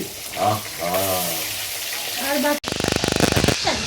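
Hot oil sizzles and crackles steadily as a hilsa fish head fries, a rush of frying that grows louder after a brief clatter, with voices talking over the start.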